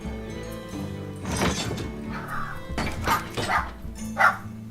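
A pet dog barks indoors in a few separate loud yaps and woofs, mixed with whimpers and a thunk, heard over quiet room hum while a computer card game is played.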